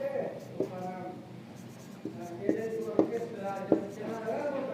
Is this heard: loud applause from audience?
no